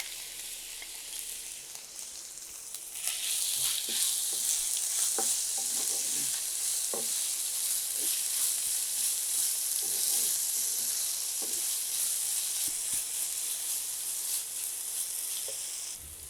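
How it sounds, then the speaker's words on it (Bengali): Grated raw potato goes into a pan of fried onions, and the sizzle jumps to a loud, steady frying hiss with scattered stirring scrapes and pops heard up close. "পেঁয়াজটা ভাজা হয়ে গিয়েছে, এখন আমি এর মধ্যে আলু দিয়ে দিচ্ছি।"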